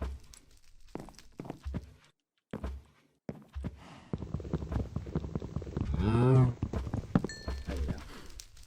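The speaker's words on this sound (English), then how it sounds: "There's a baby cow. It'll stick next to its mom." In the Minecraft video game, a cow gives a single drawn-out moo. Soft thuds, footstep-like clicks and brief pauses come before it, and a faint high tone follows.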